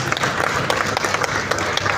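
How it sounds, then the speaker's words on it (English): Audience applause for a panel at a gaming event in Lagos, a steady dense wash of clapping filling the whole stretch at an even level, with no voices standing out. "All right, round of applause, please."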